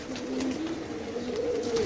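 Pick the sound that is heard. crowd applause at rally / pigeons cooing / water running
pigeons cooing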